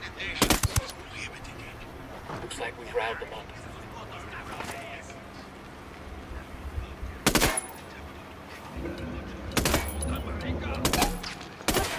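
Bursts of automatic machine-gun fire in the tactical shooter Ghost Recon Wildlands, several sharp volleys spread across the clip, loud and close, with game ambience and faint talk between them.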